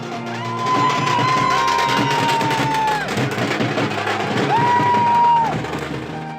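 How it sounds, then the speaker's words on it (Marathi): Crowd cheering and celebrating a municipal corporation election victory in Chandrapur, a dense, loud roar of voices and whoops sustained throughout, with a long whistle-like tone sounding twice over the noise. "या दमदार विजयानंतर वडेट्टीवारांनी जल्लोष केलाय"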